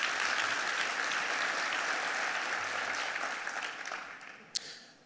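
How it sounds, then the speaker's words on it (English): Sustained applause from a conference plenary audience, dense and loud at first, then tapering gradually, with one sharp clap near the end. "Give yourselves a round of applause."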